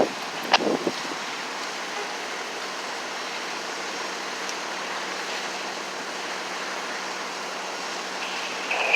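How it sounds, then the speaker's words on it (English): Steady wind blows outdoors in cold weather at a car fire scene in Roxbury Crossing, Boston, a continuous broadband rush with a brief bump near the start and no voices. "It is getting cold and windy out here."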